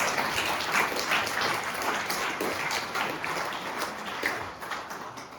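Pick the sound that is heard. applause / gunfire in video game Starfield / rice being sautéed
applause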